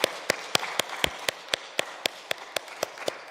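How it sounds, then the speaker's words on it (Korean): A church congregation at a Sunday afternoon worship service claps together in a steady, even rhythm, crisp hand claps repeating about every quarter second without any voices over them. "우리 박수 한번 치겠습니다."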